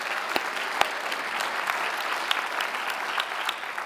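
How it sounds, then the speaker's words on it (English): Audience applause at the Crystal Apple Awards, a District 11 education honors event: a steady, full round of clapping from a seated crowd with a few sharp claps standing out, sustained evenly throughout. "So how about another round of applause for all those?"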